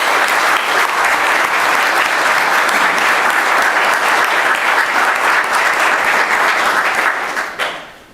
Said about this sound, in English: Let's give a warm round of applause for our 35-year service recipient, Miss Irene Tagle